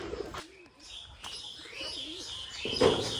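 Pigeons standing in summer heat waiting to bathe coo in short, soft, rolling calls, with a few chirps and faint flutters, close by in a quiet outdoor setting.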